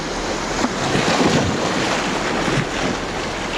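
Fast incoming tide surging over a rocky shore in heavy swell, a loud continuous roar of waves and wash with wind buffeting close by, steady throughout with no voices.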